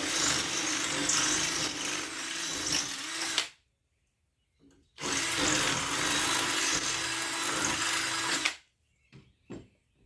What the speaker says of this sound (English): that drill bit is just still a little bit snug on that.